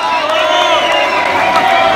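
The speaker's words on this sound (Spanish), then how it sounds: "Un aplauso fuerte para el Zulu." Crowd cheering and applauding at a live rap show in Florencio Varela, a steady dense wash of voices and clapping close around, with no gaps.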